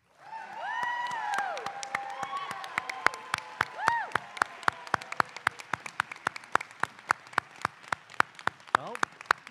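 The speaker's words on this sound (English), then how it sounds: "And how about another round of applause for our graduates?" At a college Master of Social Work hooding ceremony, applause for the graduates swells then thins into a few sharp, isolated claps that continue steadily, with a voice speaking over the opening.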